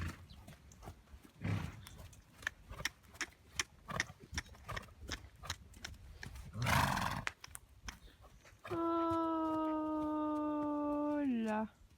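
A pony being worked at a trot, its hooves clip-clopping in an irregular rhythm, with two loud snorts or whinnies and a long sustained tonal call near the end, while a rider or trainer talks over it.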